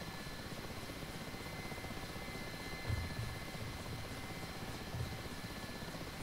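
An Mi-8 helicopter in the DCS flight simulator starts rolling forward, a steady whining rotor and turbine drone with a faint rhythmic thrum, even and moderately quiet throughout.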